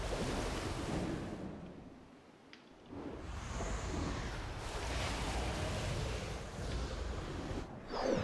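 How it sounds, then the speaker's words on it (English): A big waterfall in the video game Black Myth: Wukong gives a steady, loud roar of rushing water with wind-like hiss, dipping briefly before swelling again, with no talk. "It's a big waterfall."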